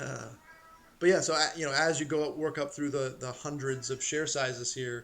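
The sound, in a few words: cat meowing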